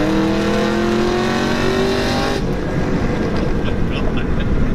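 A 602-horsepower second-generation Cadillac CTS-V with an automatic transmission and Corsa axle-back exhaust accelerates hard, its loud, rising engine roar broken by a sharp upshift midway before building again.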